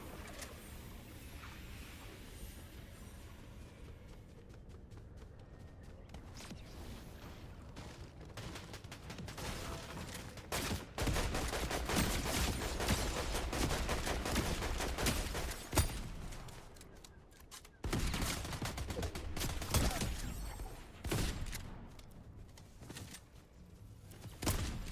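Gunfire in a Fortnite match, scattered shots at first, then a dense stretch of rapid, overlapping bursts mixed with clattering game effects, loud and continuous toward the end.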